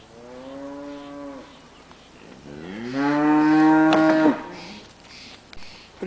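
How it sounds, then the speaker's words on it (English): A nearby cow in a yard gives two long, drawn-out moos, the second louder and fuller, with a quiet pause between them. "Here comes a cow."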